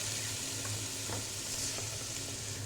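Chicken fried rice stirred in a hot pan with soy and chili sauce, a continuous close sizzle with faint scraping strokes, no voices.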